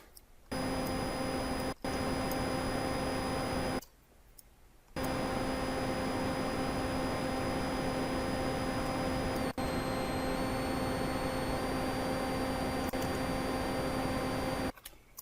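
A synthesized fan noise built in Reason software: a steady, dense hiss with a constant tonal hum, cut off by two brief gaps and a click, then resuming unchanged and continuous until the end.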